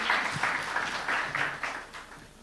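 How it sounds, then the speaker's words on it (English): Brief, faint applause at a Mafori Cup media briefing, a few soft claps rising and trailing off over a couple of seconds. "Let's give him a big round of applause"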